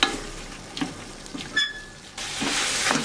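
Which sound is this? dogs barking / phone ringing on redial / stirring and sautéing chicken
stirring and sautéing chicken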